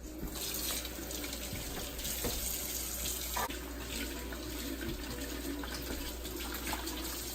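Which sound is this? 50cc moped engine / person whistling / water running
water running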